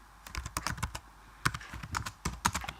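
Code typed on a computer keyboard: quick runs of close, crisp key clicks in uneven bursts with short pauses between words.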